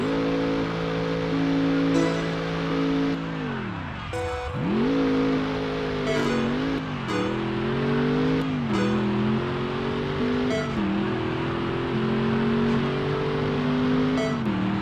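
Ford and Chevy pickup trucks accelerate hard in a drag race, their engines droning loudly and continuously, with the pitch dipping sharply on a shift and then climbing steadily through the run.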